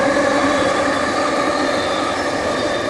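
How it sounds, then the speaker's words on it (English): A SkyTrain rolls past close by with a loud, steady whine and hum that holds for the whole few seconds, and no one speaks over it. "SkyTrain."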